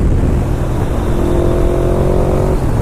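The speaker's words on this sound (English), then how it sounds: "This VMAX pulls." A 2005 Yamaha V-Max motorcycle accelerates hard in first gear, making a loud, close, continuous engine roar with a steadily rising tone and wind rush.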